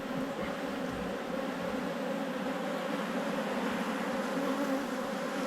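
Honeybees hum in an opened hive, a dense, continuous buzz close by at an even level, with no talking.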